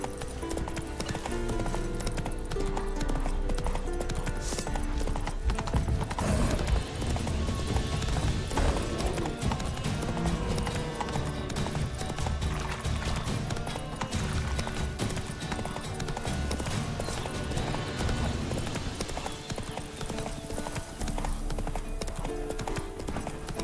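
In The Witcher 3, a horse gallops with a continuous fast rhythm of hoofbeats, mixed with game music and ambience at a dense, steady loudness throughout.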